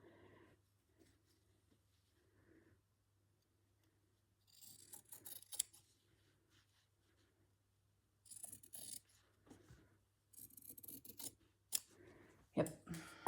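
Scissors cutting through quilt fabric, soft close snips in sparse clusters, starting faint and growing busier toward the end, with a low steady hum beneath and no speech.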